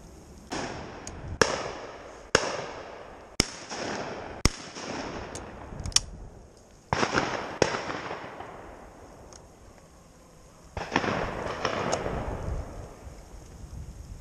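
Shotgun shots crack out at a snowy pheasant shoot at Knebworth, about a dozen sharp blasts at irregular intervals, some in quick pairs, each followed by a rolling echo that fades into the open country.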